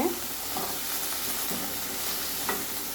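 Sundakkai, or turkey berries, sautéing in a pan with a soft continuous sizzle and a few scraping stirs of a spatula, close and moderately loud.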